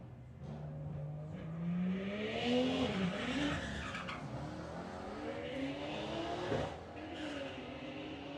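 A Ford Mustang drag racing at Santa Pod Raceway during Bug Jam 2022 roars past, engine pitch climbing through gear changes with tire squeal, loud and continuous over crowd and track ambience.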